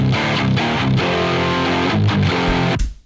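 Guitar played through an amp with a Decapitator distortion plugin added after it, giving a dense, saturated tone of sustained chords over about three seconds before ringing out and cutting to silence.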